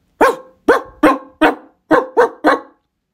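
A dog barks seven times in sharp, loud, close bursts, spaced in an uneven rhythm with short silences between, with no talking.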